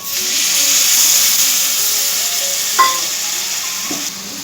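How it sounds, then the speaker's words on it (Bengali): Water splashes into a hot pan of capsicum corn masala, turning a steady loud sizzle into a hissing rush of steam with a couple of sharp spits and clatters near the end. "এরপর দিয়ে দিচ্ছি জল"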